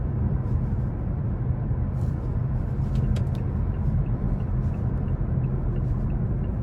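Steady low engine rumble from a 2017 Mazda 6 Grand Touring with a non-turbo four-cylinder under acceleration, heard from inside the cabin as a continuous even drone with no talking.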